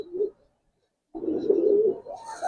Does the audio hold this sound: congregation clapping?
no